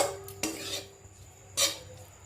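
Masala Maggi noodles being stir-fried in a pan: a spatula scrapes and knocks against the metal in two sharp strokes over a quiet background, with no voices.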